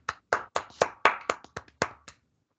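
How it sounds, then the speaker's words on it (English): A single person claps about ten times, close and crisp, in an uneven rhythm that slows toward the end, alone in a quiet room. "Big round of applause."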